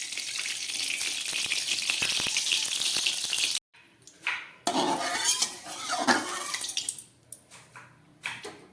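Oil poured into a hot wok for fish kalia, a burst of hiss and sizzle that is suddenly cut off, then clinks of metal against the pan and softer spattering, all heard up close.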